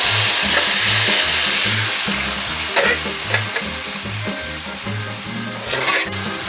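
Cooked chicken with black pepper and turmeric frying in a pan, giving a loud steady sizzle with rhythmic scraping and stirring strokes throughout and a few sharper clinks, with no voices.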